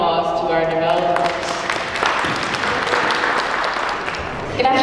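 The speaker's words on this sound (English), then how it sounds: "please give a round of applause to our developers" An audience at a business resource expo claps for the developers in a dense, sustained ovation that fills the room, with voices talking over the applause.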